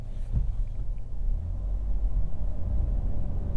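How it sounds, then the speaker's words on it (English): A 2021 Buick Envision with a 2-liter turbocharged inline-4 cruising on the road, giving a steady low cabin rumble of engine and road noise throughout, with no talking. "let's go ahead and take this Envision for a drive and see what it's like on the road"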